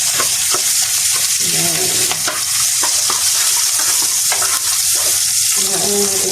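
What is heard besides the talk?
onion frying and being stirred in a pan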